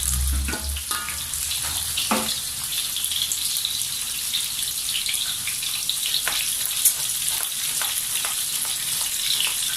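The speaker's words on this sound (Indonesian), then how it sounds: "Saya goreng sampai masak." Steady crackling sizzle of chicken curry ingredients frying in a pan, continuous and close, with occasional clinks and stirring sounds.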